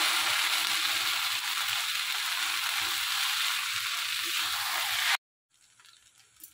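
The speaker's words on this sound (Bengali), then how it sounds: "এবার ভালো করে তেলের উপরে দিয়ে ভেজে নেব।" Mixed chow mein with tomato sauce frying in hot oil, a loud steady sizzle that runs for about five seconds, then cuts off abruptly, leaving only faint clatter.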